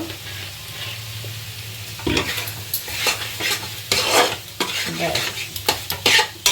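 Ginger-green chilli paste with poppy seed paste and a little soy sauce sizzles in a pan while a spoon stirs and scrapes, a steady frying hiss broken by repeated louder scraping strokes, no speech.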